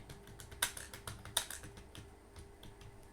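Typing on a computer keyboard while filling in an online voter ID card replacement form: soft, irregular keystroke clicks, with two sharper taps standing out, recorded close and quiet, with no talking.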